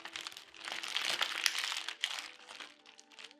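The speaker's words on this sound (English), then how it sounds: "Just slightly dry this between 2 paper towels." Paper towels crinkle and rustle up close as two pounds of raw boneless chicken thighs are patted dry between two sheets, with a continuous soft crumpling and no talking.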